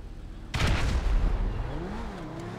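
A grenade explodes in GTA V, a sudden loud boom about half a second in, followed by a rumbling decay with a vehicle engine droning underneath.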